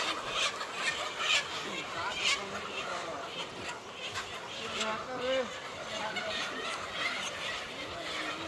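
Chickens moved by hand from a chick shed to a layer shed cluck and squawk in a busy, continuous jumble, with scattered sharper calls over steady shed noise.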